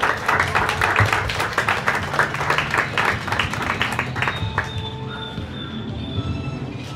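Audience applause at an art exhibition of watercolour and acrylic paintings in Tejupilco: a dense burst of many hands clapping, strongest at first and thinning out over several seconds, with no voices over it.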